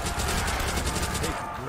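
Thompson submachine gun fired in the video game Der Riese, a fast continuous burst of automatic shots lasting under two seconds, loud and close.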